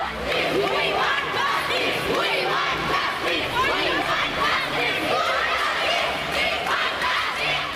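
Crowd of protesting school students chanting slogans in unison, a loud, continuous rhythmic call of many voices with overlapping chatter and shouts throughout.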